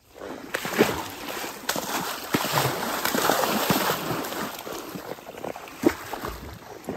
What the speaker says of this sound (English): They like to paw and splash at the water.